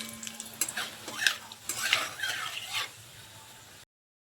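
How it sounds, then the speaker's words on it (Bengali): Five-spice seeds, bay leaves and dried red chillies hit hot oil in a pan for a tamarind pickle, giving close, fitful crackling sizzles and stirring scrapes that swell and fade over a few seconds. "তেল গরম হয়ে গেছে, এরপর 5 ফোড়ন দিয়ে দিচ্ছি আর কিছু তেজপাতা, কটা শুকনো লঙ্কা দিয়ে দিচ্ছি।"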